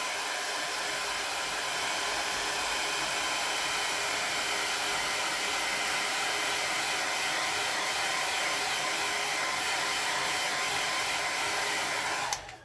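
A hair dryer blows on wet watercolor paint, a steady, constant whir running for about twelve seconds before it is switched off at the end.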